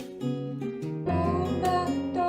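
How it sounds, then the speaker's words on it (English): A piano with the left hand playing single bass notes of each chord under a right-hand melody, sustained tones changing every half second or so, close and clear with no talking. "And that is where your left hand only plays the bass notes of each chord."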